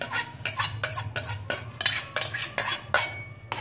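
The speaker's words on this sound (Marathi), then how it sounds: "शक्यतो मंद आचेवर ढवळा." A spoon stirs gram flour and ghee in a pan over low heat for besan ladoo, making rhythmic scraping strokes about every half second, close and clear with no talking.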